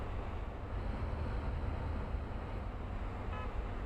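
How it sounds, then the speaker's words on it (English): Steady low engine drone of a bus in Bus Simulator 2027, a continuous rumbling hum with broadband wind-like noise, driving through town, no talking. "I'm hearing a bit of an engine noise now"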